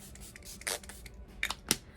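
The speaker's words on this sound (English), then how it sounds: "I should put some setting spray. I'm going to use this Murad" A Murad setting spray mister gives a few short, soft hissing puffs, two or three quick bursts close by among light handling rustles, with no talk.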